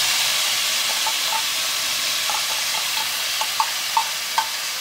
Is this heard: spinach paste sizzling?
yes